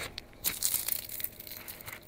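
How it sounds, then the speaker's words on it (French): Crisp crust of a pizza baked in an Isola Bella pizza oven crunching and crackling as it is broken, a few sharp close crackles followed by quieter crumbly rustling, with no talk. "Là, on entend voilà, le petit croustillant."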